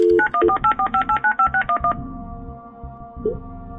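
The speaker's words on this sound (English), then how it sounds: "Here's another phone call with Samantha." Touch-tone keypad beeps dialing a phone call: about a dozen quick, evenly spaced tones in a rapid run, followed by a steadier line tone that fades out with a faint blip near the end.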